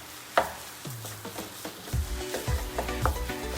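A spatula stirs bitter gourd and egg in a pan over low flame, quiet scrapes and taps against the metal with a soft sizzle underneath, close and fairly faint.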